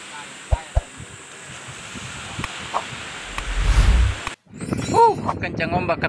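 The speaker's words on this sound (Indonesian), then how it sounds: "kencang sekali ombak" Strong sea waves slap and rush around a small fishing boat offshore, a broad wind-blown roar that swells toward the end, with a few sharp knocks and clinks from the boat and a brief cutout before voices are heard.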